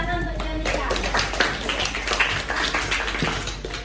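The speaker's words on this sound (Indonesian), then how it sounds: "Tepuk tangan untuk Yonika." A classroom of students claps for a classmate, a short burst of brisk, uneven clapping with a few voices mixed in.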